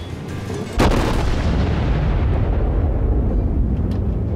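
A ship's main guns fire in a World of Warships naval battle, one huge booming salvo that rolls into a long, loud rumbling decay filling the rest of the moment.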